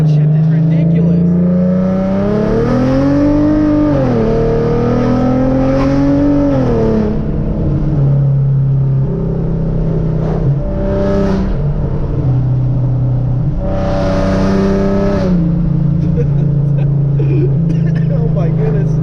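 A 2013 Hyundai Genesis Coupe 3.8 with full bolt-ons and an ISR exhaust roars loudly under hard acceleration, its engine note climbing and dropping through gear changes, with talk over the continuous close-up drone.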